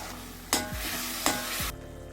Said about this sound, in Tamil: மீடியம் சைஸ் 4 தக்காளி பேஸ்ட்டாக அரைச்சது இதை சேர்த்து கொதிக்க விடலாம்.